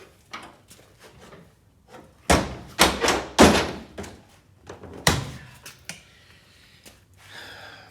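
A GM bus bay door is lowered and latched, giving a series of clattering knocks and thuds, with the loudest bangs clustered in the middle and lighter taps and rattles around them.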